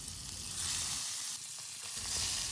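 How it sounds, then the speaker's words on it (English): Snakehead fish pieces seasoned with salt and turmeric fry in hot mustard oil in a kadhai, giving a loud, continuous hissing sizzle close by with no talk. "when the oil is hot enough, we will add the shoal fish seasoned with salt and turmeric powder"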